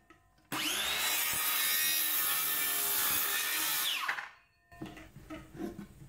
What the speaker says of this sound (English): get the cut again on the cross cut, line it up to take off that extra mil or two, and simply trim off about a blade's width